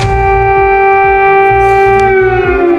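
Air raid sirens wail steadily in Ukraine during Russian attacks, a loud sustained mechanical tone with layered harmonics and a low pulsing rumble beneath.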